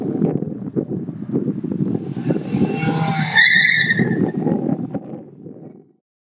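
A car skidding with squealing tires, loud and close, a rough engine-and-tire roar that builds to a sharp high squeal midway before fading out abruptly.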